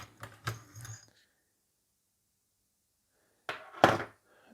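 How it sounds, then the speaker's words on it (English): A recoil spring is pulled from a Nova Modul CTS9 AK-platform pistol-caliber carbine: two brief clusters of close metallic clicks and clunks separated by a few seconds of silence. "Then we remove the recoil spring"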